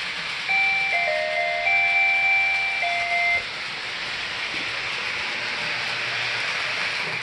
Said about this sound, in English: So now when the train enters the thruway west, that's when it's going to throw the switches.